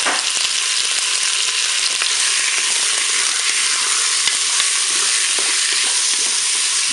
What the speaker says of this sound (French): Le préchauffage est terminé, je vais pouvoir faire revenir ma viande.